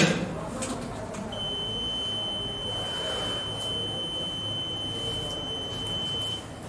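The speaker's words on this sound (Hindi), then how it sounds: "बीप की आवाज आती है, इसके बाद मतांकन हो चुका।" Electronic voting machine emitting one long, steady high-pitched beep after a mock poll vote is cast at a polling station, lasting several seconds over faint room noise.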